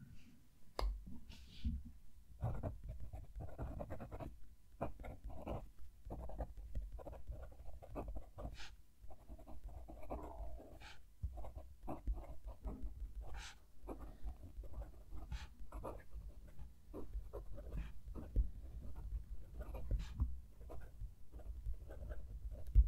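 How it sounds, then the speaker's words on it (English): A Pilot Metropolitan fountain pen with a stiff nib scratches across paper, giving close, dry, irregular strokes and short scrapes in a continuous pattering rhythm, with brief pauses between words. "With that one, very different sound. The nib feels a lot stiffer, almost like you're writing with a nail."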